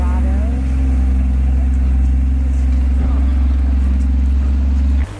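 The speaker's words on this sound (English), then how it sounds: "we took the shuttle bus to the grotto" National park shuttle bus driving toward the grotto near the Angels Landing trailhead, a steady loud low engine drone with constant tonal hum throughout, cutting off abruptly at the end.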